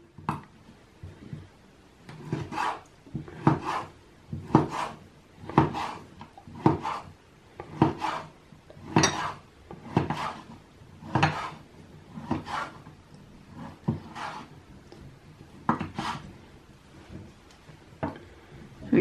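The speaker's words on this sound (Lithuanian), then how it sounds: "Pjaustom smulkiai." Smoked bacon is finely chopped with a knife on a wooden board, a close, steady run of knocking strokes roughly every second, each with a short scrape, in a quiet kitchen.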